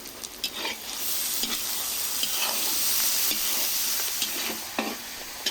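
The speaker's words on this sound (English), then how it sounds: "we've thrown our vegetables into the frying pan" Vegetables fry in a pan during mountain cooking in an Azerbaijani village, a steady close sizzle and hiss punctuated by scattered stirring scrapes and pops.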